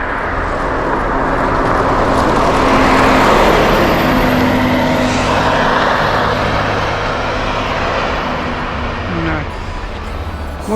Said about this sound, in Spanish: Muchas complicaciones con el tráfico.